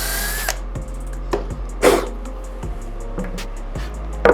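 A power drill bores pilot holes in wood while a dog puzzle toy is built, giving several short, close whirring bursts separated by brief pauses.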